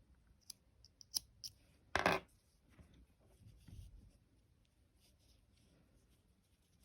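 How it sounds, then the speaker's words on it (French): Scissors snip crochet yarn after finishing a small crocheted heart, a few faint clicks followed by one sharper cut and soft handling rustles, close and quiet. "On finit par une maille en l'air et on coupe le fil."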